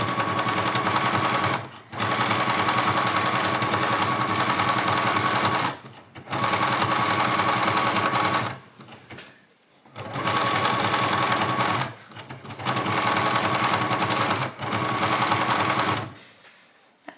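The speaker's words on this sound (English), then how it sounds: "it's easier to sew it like this than to sew it the other way." A sewing machine stitches tightly held fabric in four long steady runs, each a rapid even whir of needle strokes, separated by short pauses where it stops.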